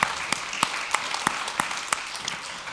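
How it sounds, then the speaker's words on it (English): A seminar audience applauds in a marketing talk venue, with steady crowd clapping and a few sharper individual claps standing out in a quick, even rhythm, fairly close and moderately loud. "Don't clap too loud."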